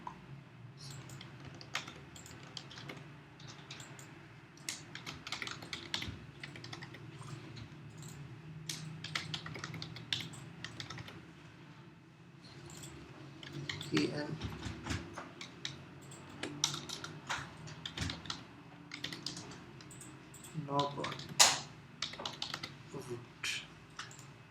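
Rapid, irregular keystrokes clatter on a computer keyboard with occasional clicks, close and fairly quiet, while someone speaks intermittently over the typing.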